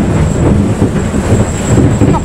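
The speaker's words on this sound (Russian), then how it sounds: "Вот сам трамвай." A new Volgograd Metrotram light-rail tram runs partly underground, giving a loud, continuous rolling rumble with uneven surges of wheel and track noise.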